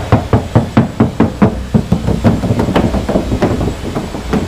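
Knuckles rap on the bare, undeadened metal driver's door of a 2016 Mazda CX-3, a quick close series of about a dozen hollow, tinny knocks in a steady rhythm, with no talking.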